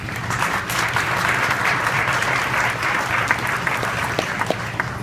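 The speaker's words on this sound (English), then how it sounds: "Let's give them one more round of applause." At a grocery store ribbon cutting in St. Louis, a crowd gives a loud, close round of applause that stays dense and steady throughout, with a low hum beneath and a few crisp claps near the end.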